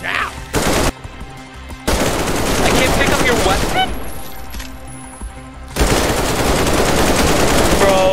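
Dense, sustained automatic gunfire from the video game Decaying Winter, loud and continuous, with brief dips in intensity and a voice talking over part of it.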